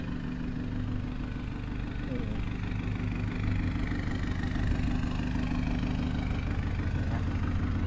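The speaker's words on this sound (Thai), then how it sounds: "นี่ฮะอันนี้คือ เสียงท่อบึ้มของรถคันนี้" An Isuzu D-Max four-door pickup, lowered, with a loud aftermarket exhaust, idles steadily with a deep, even rumble that stays near and constant throughout.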